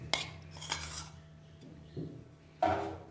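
A metal spoon stirring curd into warm milk in a pot at home, producing a few distinct clinks and scrapes against the pot's sides with quiet pauses between, close and fairly soft.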